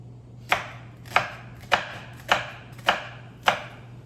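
Six evenly spaced knife chops through an onion land on a cutting board, each a crisp, close thud about half a second apart, over a low steady hum.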